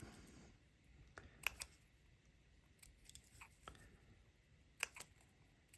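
Sharp scissor snips into fabric sound a few times, each a crisp click-like cut separated by quiet pauses, close and fairly faint.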